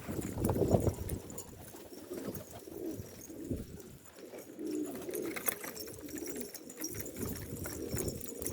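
Istanbul tumbler pigeons coo repeatedly in a loft, the soft rolling calls set against a steady wash of broadband background noise and occasional rustling.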